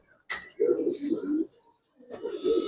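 A Giribaz pigeon coos in two low, throaty bursts separated by a short pause, close by, with a sharp click or flutter just before the first call.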